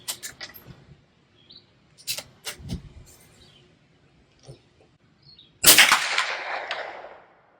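A single sharp crack from a .22 LR rifle firing Federal high-velocity hollow-point rounds outdoors, loud with a short decaying tail, preceded by a few soft clicks and faint background chirps.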